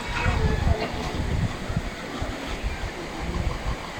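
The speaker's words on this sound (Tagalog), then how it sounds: "Ayan mismo ang Kilangin Falls." Kilangin Falls in Liliw, Laguna, a steady broadband rush of falling water near and fairly loud throughout, with voices talking over it.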